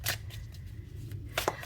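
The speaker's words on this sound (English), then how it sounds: "I'm going to shuffle and see what flies out." Tarot cards are shuffled by hand, giving quick papery riffling bursts at the start and again near the end, close and crisp with a soft pause between.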